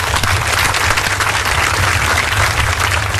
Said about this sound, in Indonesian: boleh saya minta tepuk tangan paling meriah dari semua yang ada di sini